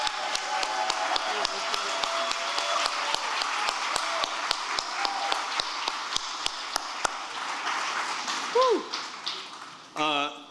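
Outdoor audience applauding sculptor Richard Hunt at the Ida B Wells monument unveiling, a sustained dense patter of many hands that fades out, with brief speech at the end.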